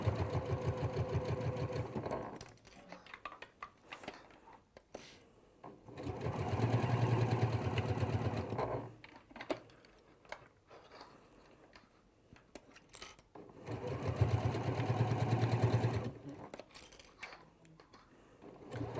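Sewing machine running in three bursts, stitching in the ditch with a reverse stitch at the start and end; a steady mechanical whir alternates with quieter pauses, close and fairly loud.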